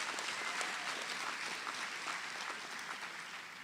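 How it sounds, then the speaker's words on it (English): Rousing applause from a graduating class and audience at a commencement ceremony, continuous clapping from a large crowd heard at a distance, fairly soft and even, with no talking over it. "A rousing round of applause"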